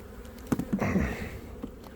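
Honeybees buzzing close by as a weak nucleus colony's hive is opened for its first inspection, a low droning hum with a few louder swells as bees pass, no speech.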